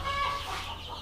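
Young farm chickens cluster near feed on an organic farm in Mexico, giving soft, close clucks and chirps over a brief moment.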